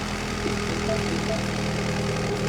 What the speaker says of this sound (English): This is the Cooperworks exhaust on the Mini Coupe with the Cooperworks package